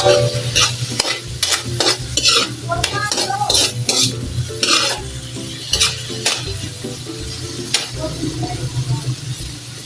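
Tomatoes sautéing in a pan for a fish sarciado, a loud close sizzle punctuated by frequent metal spatula scrapes and clinks against the pan in an uneven stirring rhythm, with no speech.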